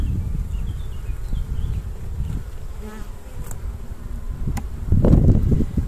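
Honey bees at an opened beehive drone in a dense, loud buzz close by, with individual insects swelling past near the end and faint rustling underneath.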